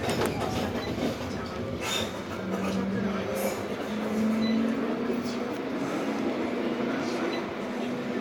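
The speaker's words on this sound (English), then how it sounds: "This tram is about to depart." A Midland Metro tram pulls away from a stop toward Birmingham Snow Hill, giving a steady close rumble of rail running with faint clickety-clack and a rising motor tone, heard from the cab.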